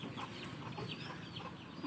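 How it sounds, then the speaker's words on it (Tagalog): A rooster clucks in short bursts while fighting a duck in a farmyard, fairly faint and distant calls repeating over a soft rustling background with no talking. "grabe yung manok na to"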